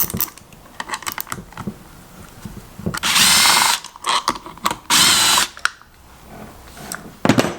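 Two screws are taken out of a Rotax Senior Max kart engine's power valve with a power driver, heard as short mechanical whirring bursts mixed with close clicks and ratchety ticks.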